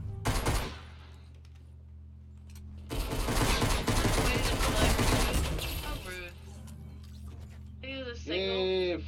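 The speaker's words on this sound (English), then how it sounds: "Oh no, I'm getting shot." Bursts of rapid gunfire in a Fortnite match, a short volley followed by a long sustained spray of shots with shattering debris, then quieter game sounds and a brief voice near the end.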